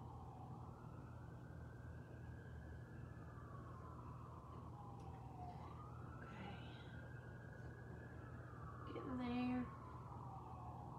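A siren wails steadily in the distance, rising and falling as it draws closer, behind a continuous low hum and faint background noise.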